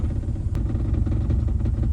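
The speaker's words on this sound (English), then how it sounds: "It calls for 900 RPM and it's currently idling at about 600." Turbocharged Mercury Capri engine, abandoned for 23 years, idling low and rough at about 600 RPM, a steady deep rumble with slight unevenness, close and alone.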